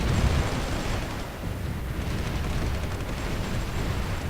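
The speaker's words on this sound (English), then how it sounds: "there's a lot more artillery everywhere" Dense, continuous rumble of artillery fire in the Supreme Ruler 2020 strategy game, with booms blending into a steady roaring wash that stays loud throughout.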